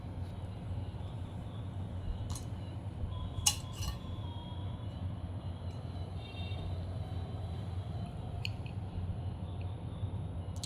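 Rice is served onto plates in a home courtyard, with a few sharp clinks of utensils against dishes over a steady low background hum.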